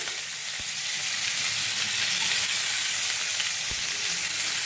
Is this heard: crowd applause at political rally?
no